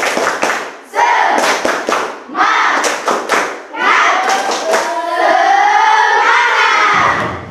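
A classroom audience at a teacher-training session claps a 'tepuk semangat' chant: close, loud bursts of rhythmic hand claps and thumps in short groups, mixed with voices calling out together.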